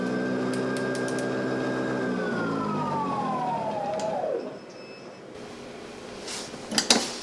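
Greenworks Pro 80V dual-stage battery snow blower running with a steady electric whine that slides down in pitch and fades out, followed by a few faint clicks and knocks.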